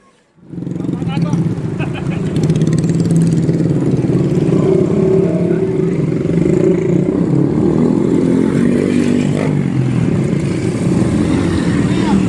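Motorcycle engine running steadily and revving at close range, a continuous loud mid-pitched drone with clattery texture that starts abruptly after a brief quiet moment and holds throughout.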